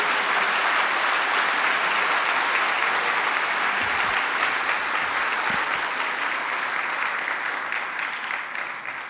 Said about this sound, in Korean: 김성복 감독님 나오실 때 큰 박수로 환영해 주시기 바랍니다.